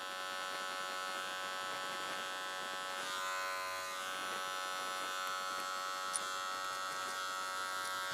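Electric hair clipper cutting a client's hair with controlled up-and-down strokes, a steady close buzzing drone that holds unbroken throughout with no talking.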